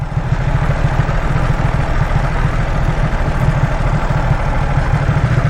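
A Ducati SuperSport motorcycle rides a rough dirt track, its engine giving a steady, loud low rumble that holds even throughout with no pauses and no voices.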